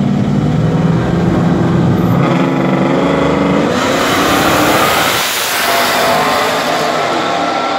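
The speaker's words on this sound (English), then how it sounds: "we got Black Widow with Angel driving, and Q in the maroon and gray Camaro" Drag race cars, including a maroon and gray Camaro, roar loudly throughout, engines revving hard with a rising surge midway as they launch and pull away.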